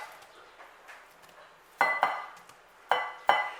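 Egg, milk, flour, salt and pepper thrown into a mixing bowl: four sharp, close knocks and clatters in two pairs near the end, after softer faint handling sounds, with no talking.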